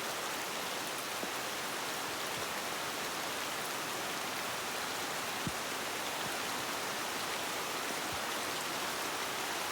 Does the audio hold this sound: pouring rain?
yes